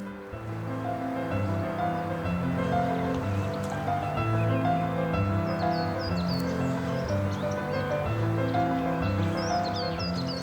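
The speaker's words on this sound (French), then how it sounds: "il y a un peu de vent" Wind gusting across the crater rim of the Puy des Gouttes, a volcanic hill in the Puy-de-Dôme, as a steady, loud roar that fills the whole stretch, with faint bird chirps above it.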